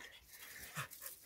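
A dog pants quietly in short, soft breathy bursts during a dog greeting near the Yumbilla waterfall in Cuispes, Peru, with faint outdoor background noise and no talking.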